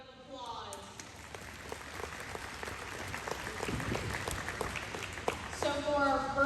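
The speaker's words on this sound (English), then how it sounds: "I think they deserve a big round of applause" Crowd applause at a goat show awards session builds gradually from a thin patter to fuller clapping, with a voice speaking at the start and again as the clapping fades.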